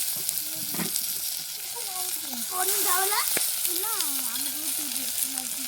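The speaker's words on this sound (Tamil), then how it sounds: "அதோடு இப்போ வந்து தக்காளி சேர்த்துக்கிடலாம் தேவையான அளவுக்கு" Tomatoes fry in a pan with garlic, mustard seeds, green chilli and curry leaves, making a steady bright sizzle while a voice rises and falls faintly in the background.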